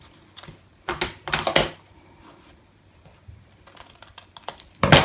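Scissors snipping through paper pieces for a junk journal, several close, crisp cuts in short bursts with quiet pauses between, no talking.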